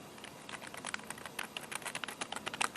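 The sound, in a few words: computer keyboard clicking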